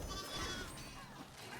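Sheep bleat in the Warcraft Rumble video game during a Siege of Ironforge battle, a wavering bleat over a steady bed of game noise and effects.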